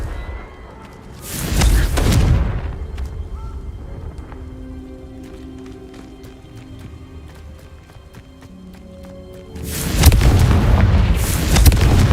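Confringo spell blasts in Hogwarts Legacy, two loud booming explosions with long rumbling roars, one near the start and one near the end, with quieter game sounds between.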